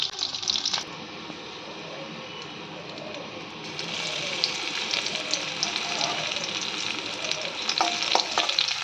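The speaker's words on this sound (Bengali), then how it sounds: "সেই রসুন থেতোটা এবার ফোড়নে দিয়ে দেব।" Crushed garlic and black cumin hit hot oil, bursting into a close sizzle that steadies into a continuous frying hiss with light stirring, then grows louder and fuller partway through.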